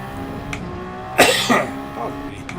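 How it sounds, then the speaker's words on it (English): A few short coughs close to the mic from a person playing Gran Turismo 7 in the Toyota GR010, two sharp bursts then a softer one over a steady racing-car engine drone. "I might cough a few times during this as well"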